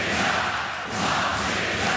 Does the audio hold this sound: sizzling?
no